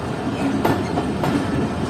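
The Karakoram Express runs through Kotri Junction, its wheels beating a close, rhythmic clickety-clack over the rail joints beneath a loud, steady rumble.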